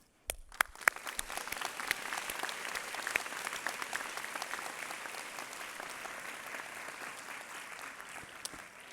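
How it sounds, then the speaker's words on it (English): Sustained applause from a large audience at a college speech day and prize giving ceremony, steady clapping that fills the whole stretch without talk, with a few sharper claps standing out near the start and end. "You all deserve a big round of applause"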